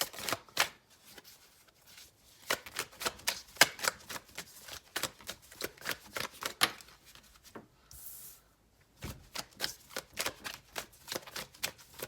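A deck of tarot cards shuffled over and over, a fast crisp run of riffling flicks and slaps with one brief pause, close and alone with no talking.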